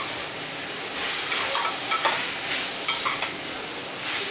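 Tomatoes cut lengthwise fry in hot oil for a restaurant-style chicken salna, a steady sizzle broken by scraping strokes of stirring, close and fairly loud with no talk.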